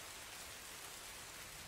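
Rain falls on a stagecoach as a dense, even hiss of drops, steady and soft, with no other sounds standing out.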